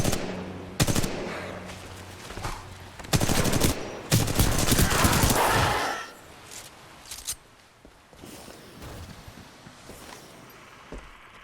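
Video game gunfire crackles in loud bursts of rapid automatic shots, with pauses and quieter clicks and shuffles between volleys, no talking.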